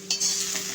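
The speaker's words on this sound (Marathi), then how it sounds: "आता आपण कांदा भाजायचा आहे, छान असा ब्राऊन करायचा आहे।" Onion frying in oil in a pan for a pink perch fish curry, a brief close sizzle that rises sharply and holds steady with a bright hiss, no talking.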